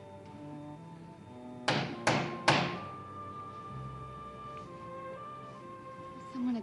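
Three firm knocks land on a door in a soap-opera interior scene, evenly spaced and fairly close, over a quiet bed of dramatic background music.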